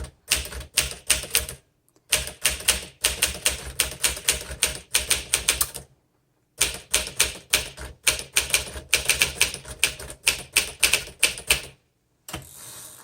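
A 1958 Smith Corona Silent Super manual typewriter being typed on close up, with rapid bursts of crisp key strikes in steady runs, broken by a few short pauses and occasional single clacks.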